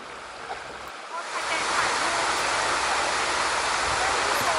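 River water at Nan Mod Daeng in Phatthalung flowing steadily along a calm stretch between rapids, a continuous broadband rush that swells louder after the first second and then holds even, close and without talk.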